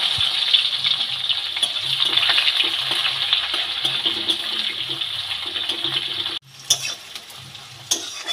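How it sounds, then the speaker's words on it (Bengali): Onions and bay leaf fry in oil for jackfruit biryani with a loud continuous sizzle and crackle, briefly dropping away before the hiss returns with occasional stirring clatter. "কেটে রাখা পেঁয়াজগুলো দিয়ে দিলাম তেলের মধ্যে"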